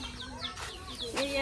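Village chickens clucking close by in a short run of rising, chirpy calls, with a faint hum underneath and a voice speaking briefly in the background.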